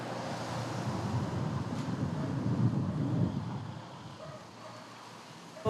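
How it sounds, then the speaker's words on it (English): Strong wind at Cabo da Roca, Portugal's coastal cliffs, buffets the microphone in a loud, continuous roar that gusts and then eases toward the end, with no voices. "Oh, it's so windy."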